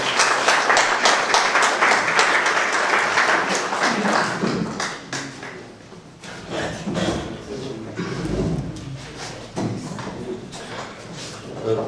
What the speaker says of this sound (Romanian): Să-l aplaud.